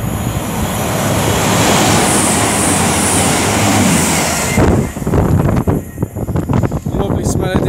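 Avanti West Coast Class 221 diesel unit 221104, running from Chester to London Euston, passes at Rugby on the West Coast Main Line with a loud, close roar that cuts off abruptly into fainter rail clatter and rumble.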